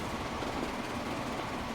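A steam train runs in the railway game Transport Fever on the Gotthard map during a haulage race, giving a steady, dense rumble of wheels and engine with no talk.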